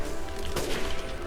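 Gunfire during a Resident Evil Village boss fight against Miranda, a dense burst of shots with a sharp crack in the middle, loud and close over a busy game soundscape.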